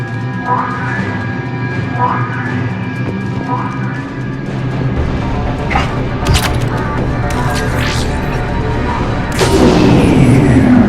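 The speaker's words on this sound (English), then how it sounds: "Time to test this cannon." Several heavy booming blasts and crashes from a Krogan cannon in Mass Effect 3 on Tuchanka ring out over a dense, rumbling game soundscape, with a final loud impact near the end.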